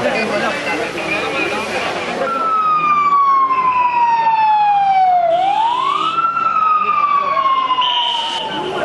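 Ambulance siren after a suicide bombing in Shabqadar, a loud wailing tone sweeping slowly down then up again, close by, over rumbling traffic and voices talking in the background.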